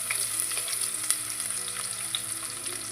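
Whole spices with crushed garlic and ginger frying in hot oil while being stirred, a steady close sizzle with scattered crackles and pops and no voices.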